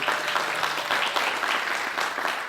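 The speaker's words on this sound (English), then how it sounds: "Give her a round of applause" Short burst of audience applause at a highway construction careers training program graduation, steady dense clapping from a crowd with no talk over it.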